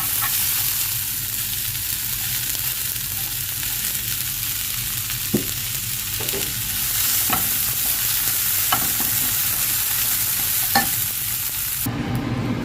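Onions fry in a pan for a mutton and brinjal curry, giving a loud, even sizzle throughout with occasional sharp clicks from stirring, and no voices.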